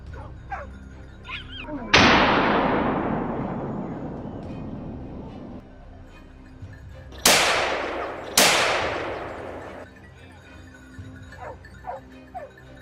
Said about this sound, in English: It didn't take long before we shot down a huge wild boar.